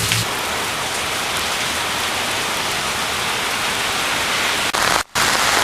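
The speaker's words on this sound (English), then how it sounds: "It's really raining right now." Steady, heavy rain hisses continuously, with a brief dropout near the end before the downpour resumes.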